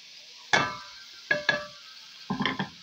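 Sliced onions going into hot oil in a cooking pot for pot kebab, giving three sharp sizzling bursts with stirring scrapes between quieter pauses, close and clear.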